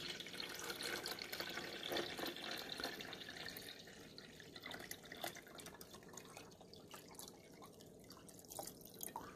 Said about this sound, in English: So then we're going to pour the water in.